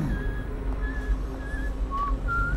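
Whistling in the stealth video game Dishonored: a series of short, clear whistled tones repeating at a steady pace over a constant low ambient hum, moderately loud and with no talk.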